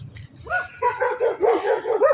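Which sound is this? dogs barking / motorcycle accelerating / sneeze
dogs barking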